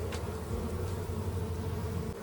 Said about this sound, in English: These are actually some really gentle, just nice bees.